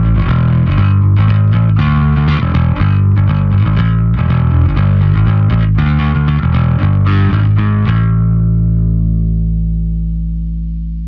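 A bass guitar picked with a plectrum through a Trondheim Audio SkarBassOne drive pedal plays a driven, gritty riff of rapid notes, loud and close, then a final note rings out and slowly decays.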